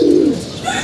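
Pigeons in a home loft give a single low, close coo that swells and fades, followed by faint softer bird sounds with no talking.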